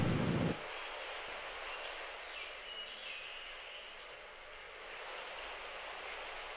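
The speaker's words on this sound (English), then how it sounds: "And then the rain." Steady, soft rain hiss fills a binaural album mix, even and diffuse, after a short louder low rumble at the start.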